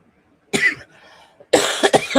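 A person who has been choking coughs hard in two loud, harsh bursts close to the microphone, separated by a short quieter gap of raspy breathing.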